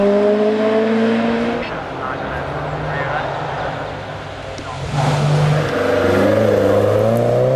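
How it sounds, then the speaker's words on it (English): MG cars race up the Wiscombe hill climb course, engines roaring and revving loudly as they accelerate past, pitch rising and falling through gear changes, with a constant close engine drone throughout. "And the cars keep coming"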